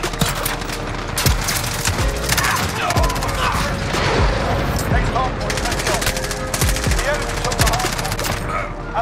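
MP7 submachine gun fire in Modern Warfare, rapid sustained automatic bursts with sharp repeated cracks and mechanical clatter, loud and close throughout, with game effects mixed in.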